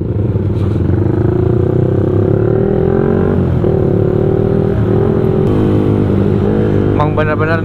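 A Yamaha MX King 175cc motorcycle rides at speed, its engine droning steadily loud and close with rising pitch as it accelerates, a clattering rattle near the end, and a voice talking over it at times.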